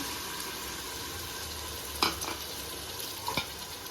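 Pureed tomatoes hit a pan of frying ginger-garlic masala for egg dum biryani, giving a steady close sizzle with a couple of sharp scraping stirs near the end and no talk.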